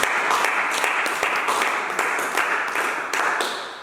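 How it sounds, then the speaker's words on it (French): A church congregation claps and applauds together, dense rhythmic clapping in a reverberant hall, steady and fairly loud throughout a few seconds. "On acclame,"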